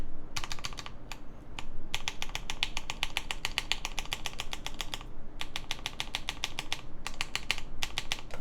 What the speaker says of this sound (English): The backspace sounding a little tight, but I think that might just be the keycap.